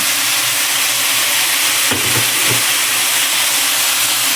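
Pork frying in a pan for Thai stir-fried holy basil with fried egg, a steady loud hiss and sizzle throughout, with a few brief louder crackles near the middle.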